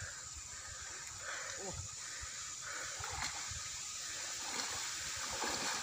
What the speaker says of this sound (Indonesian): Ini sungai guys, namanya Kalimarang guys.